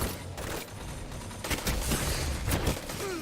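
Gunfire in the video game Destiny 2 during an Iron Banner match, quiet bursts of rapid shots that grow a little denser toward the end.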